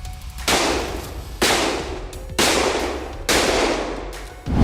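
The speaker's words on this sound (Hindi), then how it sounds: "पश्चिमी चंपारण में अंधेरे की चादर में लिपटा दियारा बंदूक की गोलियों की आवाज से गूंज उठा।" Four sharp gunshots, a sound effect for a night-time police encounter with liquor smugglers in West Champaran, ring out at roughly one-second intervals, each with a long echoing decay.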